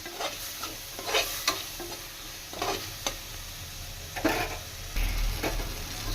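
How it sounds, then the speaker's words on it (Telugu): Mutton pieces fry in a pan with chili powder and masala for a drumstick mutton curry, stirred now and then, so soft sizzling comes with intermittent scraping strokes, moderately quiet and close, with no one talking. "ఈ కారం కూడా దీంట్లోనే మసాలాల్లోనే ఈ ముక్కలకి బాగా పట్టేలాగా ఫ్రై చేసుకోండి"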